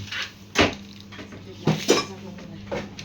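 Metal cooking pots and pans clank a few times, sharp knocks over a low steady hum, with faint clinking of utensils in between.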